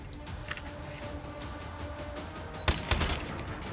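A sentry gun in Call of Duty Mobile multiplayer fires a few sharp shots, faint scattered pops and then two louder cracks near the end over a low game ambience.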